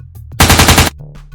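A rapid burst of automatic auto pistol fire rattles for about half a second, loud and close, as a sound effect in a Necromunda tabletop battle between Slave Ogryns and an Orlock gang, with brief low noise on either side.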